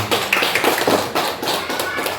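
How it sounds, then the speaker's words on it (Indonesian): Applause from an assembled audience of teachers in a school hall, a dense, steady patter of many hands clapping together at close range, continuous and fairly loud for a couple of seconds without a break. "Kalau hebat, tepuk tangan untuk kita semua"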